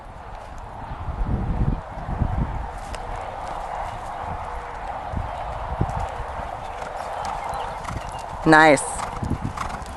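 A horse loping on a loose rein in a riding session, with rhythmic hoofbeats at a relaxed pace, a brief loud snort or whinny near the end, and people talking over it.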